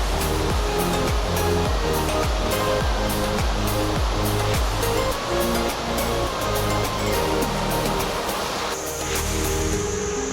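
Naddi waterfall pours with a loud, constant roar of rushing water, unbroken and close, with some tonal sounds mixed in behind it.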